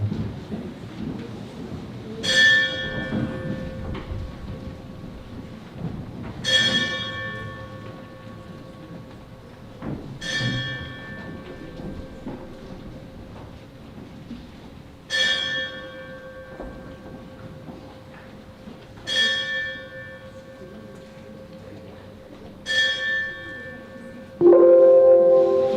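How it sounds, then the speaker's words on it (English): A school bell rung at a Founders Day assembly in a high school hall, struck six times at slow, even intervals, each clear metallic ring hanging and fading before the next, with no talk over it. "standing as we listen to the bell that will be rung."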